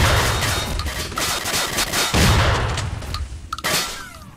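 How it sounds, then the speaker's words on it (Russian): Shotgun blasts in S.T.A.L.K.E.R. Народная Солянка, loud booming reports with dense crackling and clatter running continuously, heaviest around the middle, with a few sharp metallic clicks near the end. "Как дробовик легко пробивает череп"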